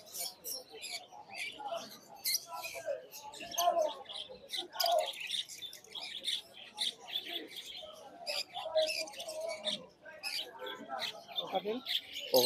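At the Garia exotic bird market, doves and Java sparrows chirp and tweet in busy overlapping bursts while people talk nearby.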